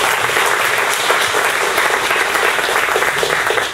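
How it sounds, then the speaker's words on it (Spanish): A crowd gives sustained, loud applause for Francisco at a presentation, many hands clapping densely and evenly throughout, with no speech on top. "Vamos a darle un aplauso a Francisco"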